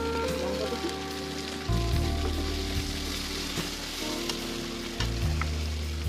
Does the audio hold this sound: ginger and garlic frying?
yes